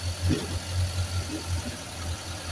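A 1956 Simca Aronde engine runs at a steady idle with a low rumbling pulse while in gear, close by, with faint clunks and no talking.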